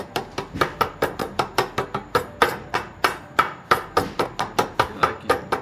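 Rapid, steady hammer strikes ring out on metal while a part is hammered into an HKS 2.8 stroker engine for a Nissan Skyline GT-R, about three or four blows per second, loud and close, with no talking.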